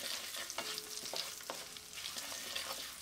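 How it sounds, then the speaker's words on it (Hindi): Spices with coriander powder, turmeric and salt frying in a pan on low heat for a potato and garlic curry, a soft steady sizzle broken by repeated scraping stirs of a spoon. "और थोड़ा सा चलाते हुए इसे भून लूंगी।"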